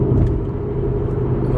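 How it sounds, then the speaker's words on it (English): A car engine runs steadily from inside the cabin, a loud continuous low rumble with a slight vibration and no change in pace. "Car's running really good though. It's got a slight vibration."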